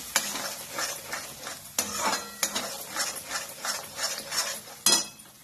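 Spiced bottle gourd masala being stirred in a frying pan, with steady rhythmic scraping strokes of a spoon over a soft sizzle, close and fairly loud, with no talking.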